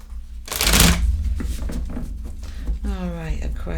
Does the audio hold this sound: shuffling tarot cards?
yes